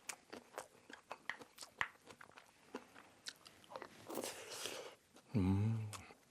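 Someone bites into and chews a mouthful of wild chive (dallae) dressed with soy sauce, a series of close, soft crunches and wet chewing sounds, with a brief vocal sound near the end.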